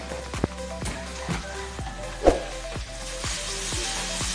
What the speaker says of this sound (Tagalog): After pong ma-melt yung butter, pwede na po natin ilagay yung chops garlic.